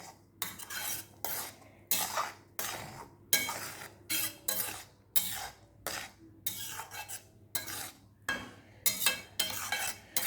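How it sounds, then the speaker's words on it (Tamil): A metal spoon scrapes and stirs spiced tomato garlic thokku in a pan, about a dozen rhythmic strokes roughly every second, close and clear, with a faint sizzle underneath. "மசாலா சேர்த்த பிறகு நல்லா கிளறி விடுங்க."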